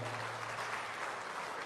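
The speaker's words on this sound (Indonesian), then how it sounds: "Tepuk tangan juga untuk beliau." Brief burst of steady clapping from an audience at a formal government meeting, moderately distant and uninterrupted.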